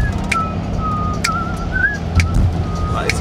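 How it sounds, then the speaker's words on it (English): A person whistles a wavering melodic tune in short phrases outdoors near a fjord, moderately loud over a steady low rumble of engine or wind noise. "That is a good whistle."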